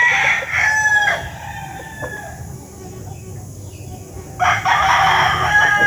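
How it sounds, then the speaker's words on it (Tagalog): Roosters and chickens on a clean backyard game farm, with one near crow at the start and another long crow near the end over softer clucking and farmyard noise. "Yung mga manok nila"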